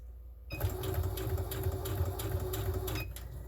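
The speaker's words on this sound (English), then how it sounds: "I am sewing on my computerized 6700." A computerized 6700 sewing machine stitches fabric bunting at stitch length 3, a steady close mechanical whirring that runs for about two and a half seconds after a quiet start, then stops.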